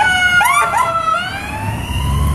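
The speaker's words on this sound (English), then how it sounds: "there's an ambulance going by" Ambulance siren wailing past outdoors on a morning street, its rising and falling tones sweeping loud and close before fading away beneath low traffic rumble.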